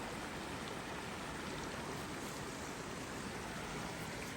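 A creek flows steadily beside a winter campsite in the Shining Rock and Middle Prong Wilderness, a close, even broadband rush of running water that fills the whole stretch with no voices.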